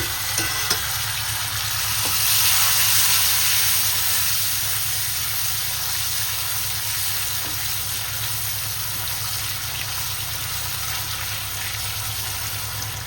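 Chopped green chillies, garlic, onion and tomato frying in a pan for butter pasta, giving a steady loud sizzle and hiss with occasional stirring clinks, close up and without talk.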